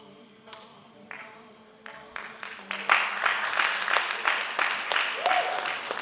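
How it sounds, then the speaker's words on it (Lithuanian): Audience applause in a hall at a men's open bodybuilding contest starts as scattered claps and swells into dense, sustained clapping, with talk over the top. "Plojimai salėje ir paskutinė pozicija pati raumeningiausia"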